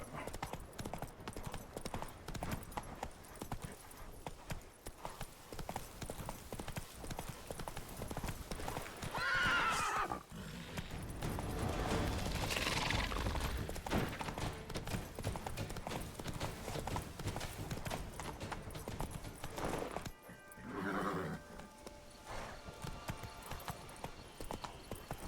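Roach, a horse in The Witcher 3: Wild Hunt, trots with steady clip-clopping hooves and whinnies twice over a game soundtrack, with no voices.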